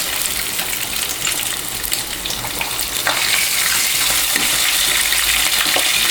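Fish pieces fry in oil with a dense, continuous hiss and crackle that stays loud and close throughout, growing slightly fuller midway.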